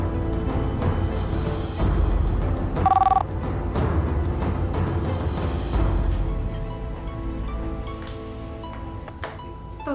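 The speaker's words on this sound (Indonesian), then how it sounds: "Telepon siapa sih?" A telephone rings indoors with a short, distinct electronic trill that stands out briefly against a muffled background hum.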